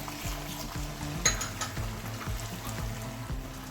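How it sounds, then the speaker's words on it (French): Tomato paste frying in a pot, about 200 g of concentrate cooking for a sauce: a steady close sizzle runs throughout while a spoon stirs and scrapes against the pot in a regular rhythm, with no talking. "Je mélange bien et je vais laisser frire."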